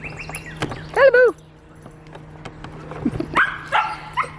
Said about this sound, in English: Bee's in there barking over something.